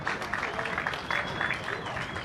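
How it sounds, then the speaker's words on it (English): A football stadium crowd at Ironbark Fields applauds in a steady, continuous wash of clapping that runs through the whole stretch, with a commentator's voice faintly mixed in. "the applause rings out around Ironbark Fields"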